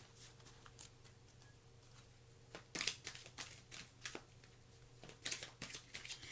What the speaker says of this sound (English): I am going to pull some animal cards just to gain a little bit more clarity